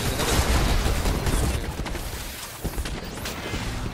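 Rapid bursts of gunfire in a video game form a dense, harsh, almost unbroken barrage with a few sharper cracks, loud and filling the whole stretch with no clear talk over it.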